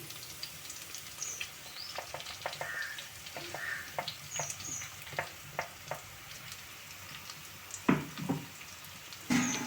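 Soft, steady sizzling of bitter gourd pieces frying in a pan, with scattered crackles and pops, a few louder clicks near the end.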